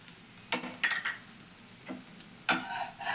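Obbattu flatbread being turned and fried in oil on a pan, with a few short metallic scrapes and taps of a spatula over a faint sizzle, close and fairly quiet, no talking.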